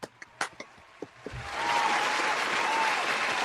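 Scattered claps start sparse and sharp during a live stream, then swell into a sustained round of applause that holds steady at moderate volume to the end.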